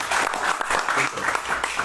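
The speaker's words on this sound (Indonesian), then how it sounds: "Tepuk tangan Bapak Ibu." Audience applause at a talk, a steady dense wash of clapping that fills the short stretch at close range.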